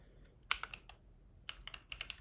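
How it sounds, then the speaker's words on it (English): Someone types on a computer keyboard in short irregular bursts of crisp, close clicks, with a brief pause between groups of keystrokes and no voices. "I'm so bad at this keyboard."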